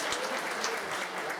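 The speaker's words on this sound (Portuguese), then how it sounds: "Vamos receber uma salva de palmas ao Senhor." Steady applause from a church congregation at a conference service, dense even clapping filling the whole moment with no voices standing out.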